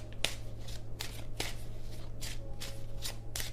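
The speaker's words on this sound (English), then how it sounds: "Why can't I shuffle this deck?" Several quick riffling bursts of cards being shuffled, spaced irregularly, close by over a steady low hum.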